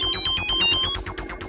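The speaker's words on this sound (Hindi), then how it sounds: "मनोज का फोन" A phone rings in a police crime drama scene, a steady pulsing electronic ringtone repeating in quick even beats, clear and alone with no talk.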